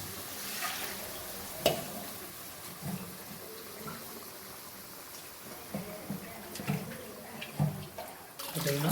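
Tamarind water pours into a hot pan of frying ground masala for okra curry, setting off a steady sizzle and bubbling with occasional clinks and stirring, close by and continuous.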